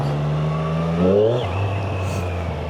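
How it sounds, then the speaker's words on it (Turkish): A motorcycle engine revs up and drops back, a loud throaty rumble close by with a rising whine that settles into a steady lower drone. "Bu motorun sesi bambaşka bir şey."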